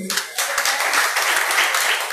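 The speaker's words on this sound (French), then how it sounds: "Bien applaudi pour vous-même." An audience at a political gathering in Bafoussam applauds, a dense, continuous wash of many hands clapping that begins abruptly and stays loud and steady, with voices mixed into the crowd noise.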